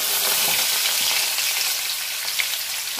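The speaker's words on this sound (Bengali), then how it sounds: "তো মাছ ভাজা শেষ, পেঁয়াজগুলো আমি দিয়ে দিতেছি।" Onions frying in hot oil left over from frying fish, a loud, steady crackling sizzle close by with faint stirring and no voices.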